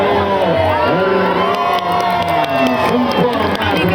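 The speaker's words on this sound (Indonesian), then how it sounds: "Tepuk tangannya pada Mario Roman" Spectators at an international hard enduro motorbike race in Cilacap, Indonesia cheer and shout steadily and loudly throughout, a dense crowd roar with children's shrieks and whoops rising above it.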